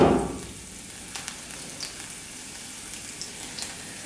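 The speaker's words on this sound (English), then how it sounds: "just enough to fry these nice fresh sage leaves up" Fresh sage leaves frying in hot olive oil, a steady close sizzle and crackle with small pops scattered throughout, starting with a brief louder burst as the leaves go in.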